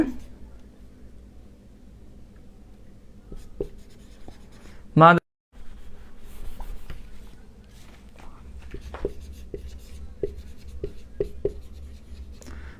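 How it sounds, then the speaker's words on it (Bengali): A pen writes a sentence by hand on paper, faint scratchy strokes and taps close up at an uneven pace, with soft shuffling and a voice speaking around them. "তাহলে আমি যদি একটা সেন্টেন্স লিখি, আমি লিখলাম হচ্ছে"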